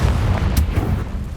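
Confringo fire spell blast in the Hogwarts Legacy video game, a short boom-like burst with a sharp crack midway over a dense, rumbling low background.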